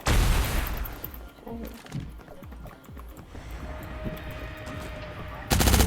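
Rapid bursts of gunfire in the Cyber Hunter video game, loud rattling volleys at the start and end with scattered single shots and game effects between.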